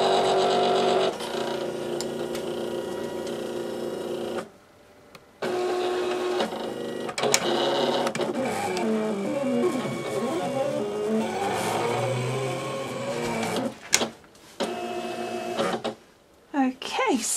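A Silhouette electronic cutting machine working on a loaded mat, a loud close motorized whir with shifting pitch and rasping strokes, broken by short pauses, while a voice talks over parts of it.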